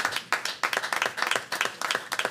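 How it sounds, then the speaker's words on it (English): Audience at a board meeting clapping, a short burst of brisk, uneven hand claps from a modest group, fairly close and alone without talk. "You can clap."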